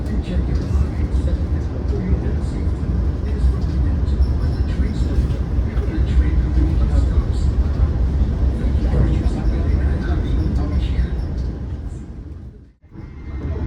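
The Gajayana executive passenger train rumbles across the Brantas River bridge near Kertosono, heard from inside as a loud, dense roar of wheels and carriage noise that dips briefly near the end, with voices under it.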